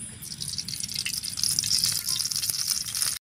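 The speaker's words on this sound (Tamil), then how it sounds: "சட்டி சூடாயிட்டு இப்போ எண்ணெய் சேர்த்துக்கலாம்" Oil heats in a hot pan for a stingray dry-fish curry, giving a steady close crackling sizzle with bright hiss throughout and no voices.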